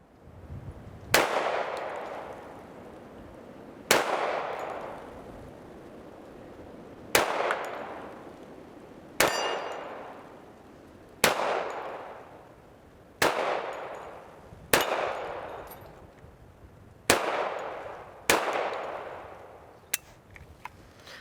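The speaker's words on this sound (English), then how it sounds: "We're going to make sure that the gun functions and fires like it should." A Hi-Point JHP .45 ACP pistol fired outdoors, nine single sharp cracks spaced a couple of seconds apart, each ringing out with a lingering echo, loud and close.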